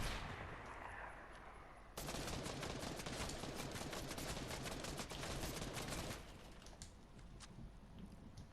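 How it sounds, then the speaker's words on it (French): Rapid automatic gunfire from the Fortnite video game crackles in dense, sustained bursts, loud and close, with the firing stopping partway and leaving quieter game ambience. "je me fais tirer dessus de tous les côtés"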